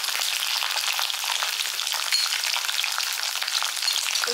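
Tamarind, garlic and onion fry in a pan for pirandai thuvaiyal. A bright, even crackle of hot oil holds steady and close throughout, with no voices.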